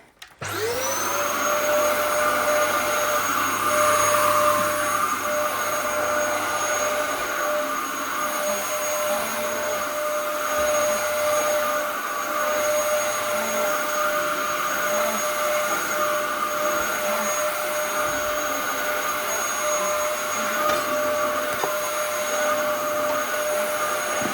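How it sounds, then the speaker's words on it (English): A vacuum cleaner runs continuously through a bedroom clean, a loud steady whine and roar with a constant tone and no pauses or voices. "This is a really unrewarding vacuuming session today"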